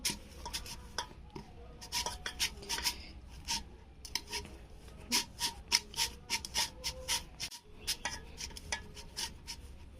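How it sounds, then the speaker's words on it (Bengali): Fresh chhana cheese kneaded by hand with the palm on a flat surface for rasgulla, giving repeated soft rubbing and squishing strokes in a steady, close, quiet rhythm with no talking. "আমি এই হাতে তালুটা দিয়ে এইভাবে এইভাবে মাখবো"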